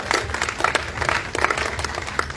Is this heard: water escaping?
no